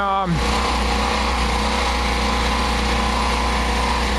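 A portable generator engine runs steadily up close, a loud continuous drone with a faint uneven stumble, opening with a brief falling whine.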